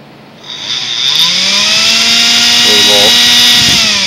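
A dismantled Dirt Devil broom vacuum motor spins up on a 3-volt supply, rising from a soft start into a loud, steady high-pitched whine close by, with a few brief clicks.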